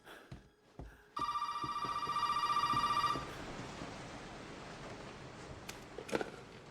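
A phone rings inside the survival horror game Resident Evil 7: one loud, sustained electronic ring of about two seconds, then quiet game ambience with faint footsteps.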